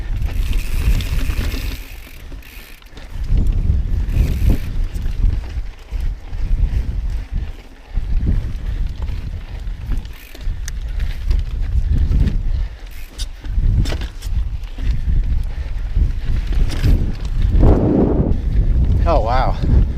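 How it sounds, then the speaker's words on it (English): Strong, gusty wind roars across the microphone on a mountain bike ride over big rock at Gooseberry Mesa in Southern Utah, loud and continuous with surging gusts, mixed with riding noise and a rider talking. "That wind is just killing me."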